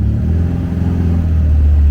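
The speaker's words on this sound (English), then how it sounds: "Car's running really good." An old car that has been off the road for about 30 years drives along a bumpy back road, its engine giving a loud, steady low rumble that stays even throughout with no talking.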